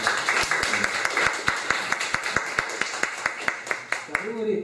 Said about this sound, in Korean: 같이 한번 하나님 박수 한번 해주십니다.